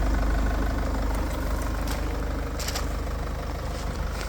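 A 2015 Land Rover Freelander with a 2.2-litre 150-horsepower diesel engine idles steadily and close, with a low constant rumble and a few faint clicks.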